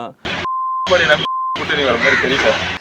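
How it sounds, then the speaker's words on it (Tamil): Flat, steady censor beeps cover words in a Tamil news clip, two sustained tones cutting between bursts of loud speech, and the talking carries on afterward. "இந்த ரெண்டு சொற்களையும் பீப் போட்டு ஏடா எடப்பாடிங்கிறது"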